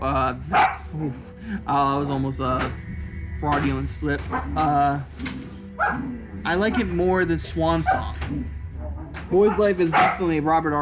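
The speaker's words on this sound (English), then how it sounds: "sorry for the dogs in the background" Dogs bark intermittently in the background, in short sharp bursts beneath a person talking steadily up close.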